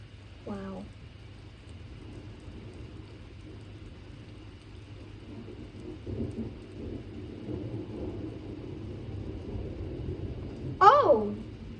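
A severe thunderstorm with 70 mph wind gusts and torrential rain, heard as a steady roar of rain with thunder rumbling under it, plus a few sharp bursts at the start and near the end.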